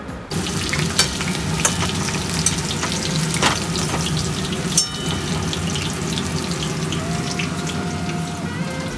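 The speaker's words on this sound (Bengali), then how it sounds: "এখানে পেঁয়াজটা ফ্রাই করা হচ্ছে" Onions sizzle in hot oil while pulao is being prepared with cashews and raisins in a home kitchen, a steady close crackle with scattered clinks and stirring knocks, with no talking.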